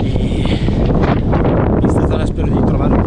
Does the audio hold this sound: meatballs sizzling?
no